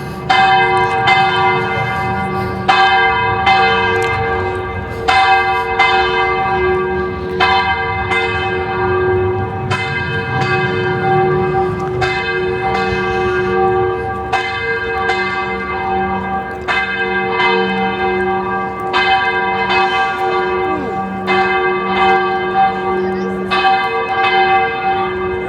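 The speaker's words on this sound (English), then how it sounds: "In the background you can hear the bells" Cathedral bells beside the Royal Palace in Madrid ring out loud and close, a long sequence of evenly spaced, resonant strikes over a sustained humming tone, continuing for the whole stretch without talk.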